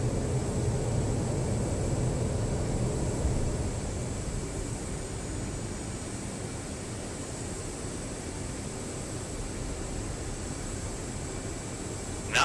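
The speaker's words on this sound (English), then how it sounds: "the aircraft will pitch up off the ground and begin climbing away from the runway" Aircraft climbing away from the runway after takeoff in the DCS flight simulator game, a steady broadband engine and air roar that eases slightly partway through, continuous and even, with no talking.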